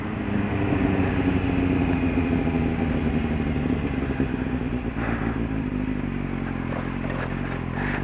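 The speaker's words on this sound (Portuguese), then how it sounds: "Olha que motor, meu Deus do céu!" A Kawasaki Z750 motorcycle fitted with an AGF300 exhaust drones steadily on a night ride, its engine loud and close with a rough, even tone and a slight clatter, and no voices over it.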